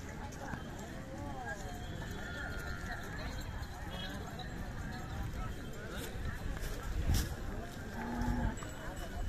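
A Khillar cow lows amid the crowded outdoor bustle of a large cattle fair at the Siddheshwar festival in Vijapur, its moo brief and partly buried under constant crowd noise, hoof clatter and nearby talking.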